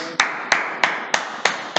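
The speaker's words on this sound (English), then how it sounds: "Round of applause, round of applause." Six sharp, evenly spaced claps at a slow, deliberate pace in a classroom, close and distinct against a quiet background, sounding more like one or a few pairs of hands than a full class.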